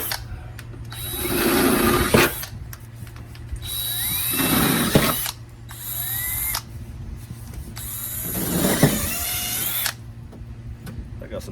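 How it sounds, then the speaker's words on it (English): A power drill with a 25/64 bit enlarges holes for Jeep JK fender flares in several whirring bursts, each a couple of seconds long with short pauses between, loud and close, with a steady hum underneath. "So what you'll need now is a 25/64 drill bit"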